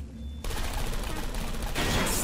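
Turrets in Portal Stories: Mel open fire, rapid machine-gun bursts that start abruptly and grow denser and louder toward the end.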